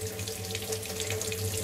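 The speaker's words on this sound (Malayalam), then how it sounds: "നമ്മൾ പൈപ്പൊന്ന് തുറന്നിട്ടിട്ട്" A kitchen tap is opened over a kulfi mould to loosen homemade ice, sending a steady, moderately close stream of running water into the sink with no talk.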